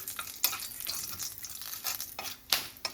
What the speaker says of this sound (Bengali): গোটা গরম মশলাটা একটু ভেজে নিচ্ছি